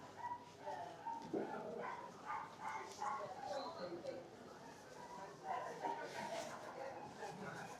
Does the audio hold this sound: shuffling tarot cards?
no